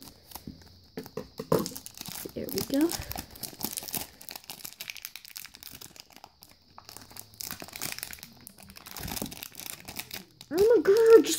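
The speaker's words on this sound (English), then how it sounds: "I'm just gonna open it with scissors" Plastic and cardboard packaging of a Moyu LingPo puzzle being cut and torn open with scissors, a series of irregular crinkles and rips with pauses in between, close and intermittent, with a person talking briefly.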